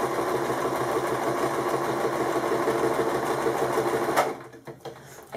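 Sewing machine stitching pieces of an origami candle mat, running steadily at close range for about four seconds before stopping, followed by a few soft handling clicks.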